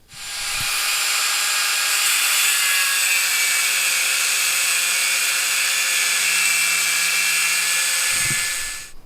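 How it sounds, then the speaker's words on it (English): A power tool cuts through a rusted, seized exhaust nut and bolt on an MR2 during an exhaust swap, making a loud, continuous harsh hiss that starts abruptly, holds steady for several seconds at close range and then cuts off. "that's the nut sliced off and the end of the bolt."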